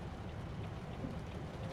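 Steady rain pours down in American Truck Simulator, a dense, even hiss of drops drumming on a surface that buries everything else, including the idling diesel engine of a Volvo truck, with no voices.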